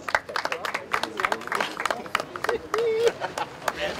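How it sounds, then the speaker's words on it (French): A crowd claps for the winners at a pétanque tournament prize-giving, with steady, moderately close applause under chatter and a voice speaking. "Un grand bravo, un grand applaudissement"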